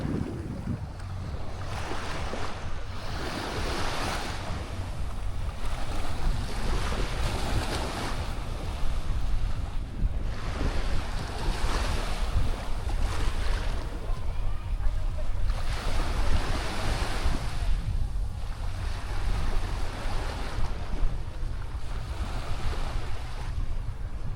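Waves breaking on the reef at Coco Beach, Playa del Carmen: a continuous broad wash of surf with rhythmic swells, steady and fairly loud, with some wind noise over the microphone.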